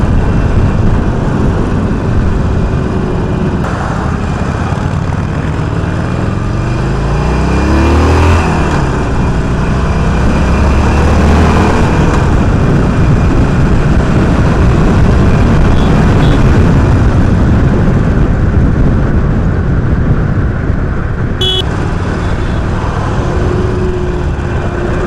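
A Harley-Davidson 48 motorcycle being ridden on an Indian road, its engine a loud continuous drone with rising and falling revs and heavy wind rush over the whole stretch, no talk.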